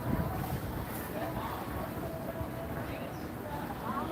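Wind gusts at Seaport Village on the San Diego waterfront, a steady broadband rush and buffeting across the whole stretch with no clear breaks.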